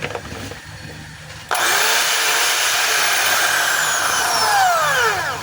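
A DeWalt DWD024 1/2-inch hammer drill switched on during a function test, a steady loud whirring motor that kicks in after a moment of background hum and holds a strong high-pitched drone with slight pitch shifts, close up with no talking.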